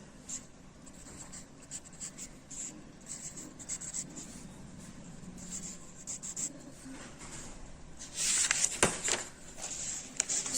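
Steady scratchy strokes of a pen writing on paper during a math lesson, continuous close scribbling with short pauses, growing louder and busier toward the end.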